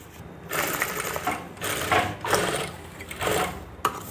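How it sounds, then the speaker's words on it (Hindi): Short bursts of a sewing machine stitch blouse pleats in place. The motor starts and stops in several quick runs with brief pauses between them, and each run is close and moderately loud. "एक सिलाई इधर से लगाई और एक सिलाई आपको पहले इधर से लगा लेनी है"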